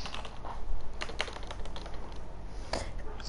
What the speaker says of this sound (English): Are you playing with keyboard?